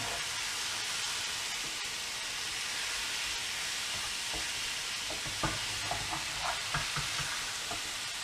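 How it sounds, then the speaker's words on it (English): Minced beef sizzling steadily in a frying pan, a constant hiss with scattered scraping and tapping as the mince is flipped over with a utensil, close and alone. "I want to flip this over rather than stirring it until we get rid of all the pink"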